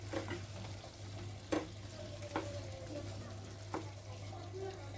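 Onion-fried chicken roast being stirred in a pan with powdered milk and sugar added, a steady low frying hiss with a few sharp scrapes and clacks of the spoon against the pan.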